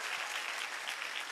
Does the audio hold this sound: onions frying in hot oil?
no